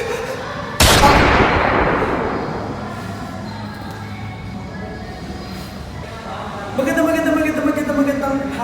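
A single loud gunshot in a comedy skit cracks sharply and then decays into a long, fading tail. A voice speaks afterward, and the background noise rises near the end.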